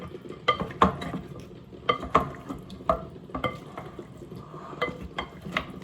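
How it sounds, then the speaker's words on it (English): A utensil stirs and mixes food for an oxtail dish in a bowl, giving repeated close scrapes and clinks in an irregular rhythm over a low background. "I'm going to mix that up."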